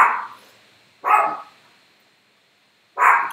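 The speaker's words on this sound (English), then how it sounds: "the dogs haven't barked all day. Until I start live streaming" Dogs bark in three separate bursts spaced a second or two apart, each bark loud and fairly close, with quiet gaps between them and no talking.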